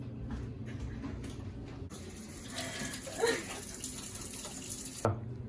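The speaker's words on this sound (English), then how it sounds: "First, let's wash our hands." Hands being washed under a running kitchen tap before cooking mapo tofu, a steady close stream of water with splashing and rubbing, a brief clunk near the end.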